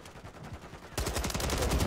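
Rapid gunfire in Call of Duty's Walking Dead crossover mode, starting as faint popping and turning into a loud, dense burst of continuous automatic shots in the second half.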